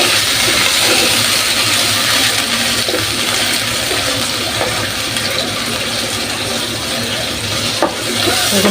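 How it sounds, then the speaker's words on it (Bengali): Meat and spices such as cinnamon and cardamom sizzle loudly in a pan for biryani, a steady close frying hiss with faint stirring scrapes and no talk. "গোস্তগুলো ভালোভাবে কষাবো"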